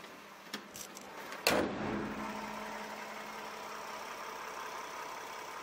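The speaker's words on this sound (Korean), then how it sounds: "엔진 소음 먼저 들려드리면은 이 정도의 엔진 소음 만나보실 수가 있고요" A third-generation Toyota Sienna minivan's 3.5-litre AWD engine idles with the hood open. A few sharp clicks and a thump come first, then a low, steady, fairly quiet hum runs on evenly.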